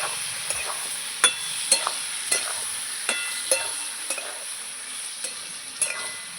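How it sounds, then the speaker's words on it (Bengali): A spoon stirs salted, turmeric-seasoned food frying in oil in a pan, making repeated scraping strokes at a steady rhythm over a continuous close sizzle. "একটু লবণ দেবো দিয়ে একটু তেলের মধ্যে নাড়াচাড়া করবো"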